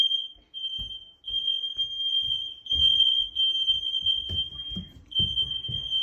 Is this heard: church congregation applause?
no